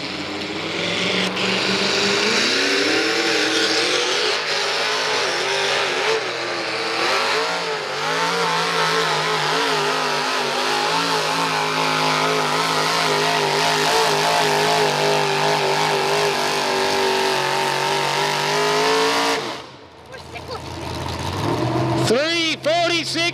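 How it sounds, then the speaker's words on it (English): V8 mini rod race car at a Fredericksburg agricultural fair, its engine roaring and revving loudly for nearly twenty seconds with rising and falling pitch, then cutting off before a brief renewed burst; announcer talk runs underneath. "these mini rods are V8s. A lot of horsepower, a lot of tuning tunes. So this one's going to be loud."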